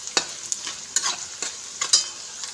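Onion and curry leaves sizzle in a pan while a spoon stirs them, soft steady frying hiss broken by repeated sharp scraping strokes and clinks, close and without voices.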